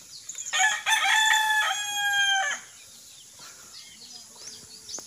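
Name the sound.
roosters crowing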